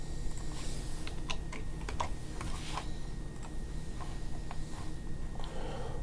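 Rapid typing on a computer keyboard while entering text for a Shopify contact page. The keystrokes are close and crisp, sometimes in short bursts and sometimes spread out, over a steady low background hum with no talking.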